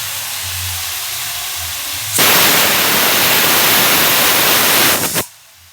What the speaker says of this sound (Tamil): சிக்கன் நல்லா கொஞ்சம் நேரம் வதங்கட்டும்